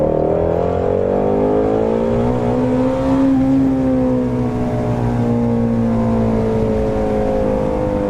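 A Ford Mustang GT350 engine revs hard in second gear, a loud sustained climbing drone with strong harmonics that peaks midway and then eases slightly, heard from inside the car with no talking.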